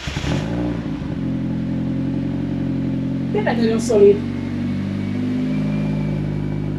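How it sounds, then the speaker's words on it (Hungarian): A tuned car engine holds a raised cold idle of about 1400 rpm, a steady low hum that runs through the whole stretch beneath someone talking nearby. "És ez az emelt alapjárat."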